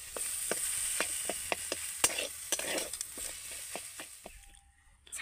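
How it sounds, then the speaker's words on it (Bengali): Chhena filling frying in ghee gives a continuous sizzle while a spoon stirs it, scraping and tapping the pan every half second or so, close up, ending with a brief pause. "এবার আমি ভালো করে একটু নেড়ে নেড়ে পুরটাকে তৈরি"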